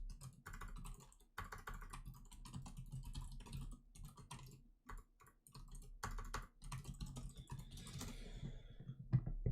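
Quiet, rapid typing on a computer keyboard, irregular clusters of close key clicks over a faint low hum, with no voices.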